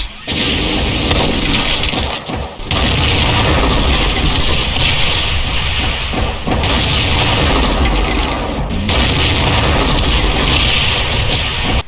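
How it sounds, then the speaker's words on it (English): A Wrathlord Hell Baron variant in a Doom mod fires rockets and grenades, producing loud, dense, continuous blasts and explosions with brief gaps, a heavy chaotic barrage up close. "close ranged attacks include a flamethrower and a grenade launcher"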